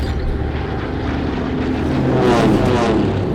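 Film sound effect of a propeller plane flying past in stereo: a low, rumbling engine drone that grows louder toward the end as it sweeps closer, with no voices.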